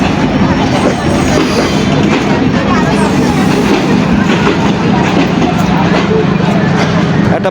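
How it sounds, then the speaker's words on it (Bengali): Passenger train from Jessore to Dhaka departing and running on its rails, a loud continuous rumble with faint wheel clatter, heard up close from on board, with people talking in the background. "4:20 বাজে ট্রেন ছেড়ে দিল"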